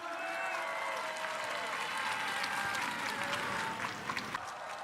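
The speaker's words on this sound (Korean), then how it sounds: "큰 박수 부탁드리겠습니다" A crowd at an outdoor Gwangju political campaign rally keeps up steady applause, distant and wide, with some cheering voices mixed in and a few sharper claps near the end.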